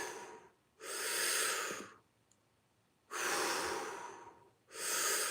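A human voice imitates breathing: two long, loud breathy exhales or inhales separated by short pauses, then a third beginning, alone and close with no other sound.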